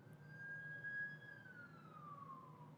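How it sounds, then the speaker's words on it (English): Emergency vehicle siren wailing outside, a single steady tone that holds and then slowly falls in pitch, moderately distant over a constant low background hum, with no talking. "with the sirens going on out here"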